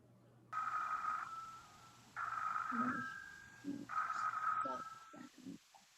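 A telephone rings three times in a radio play, each bell burst sharp and steady with short pauses between, and a quiet voice murmurs underneath near the end.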